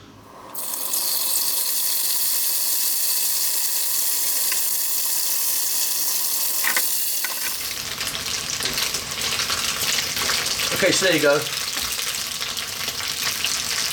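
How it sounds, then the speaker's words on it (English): Tofu and beansprouts frying in a pan for a Chinese vegan stir fry, a steady loud sizzle running throughout with brief clatter of stirring near the end and a few spoken words. "I'm going to fry this."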